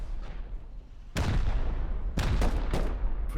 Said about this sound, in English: Oh, rockets coming in.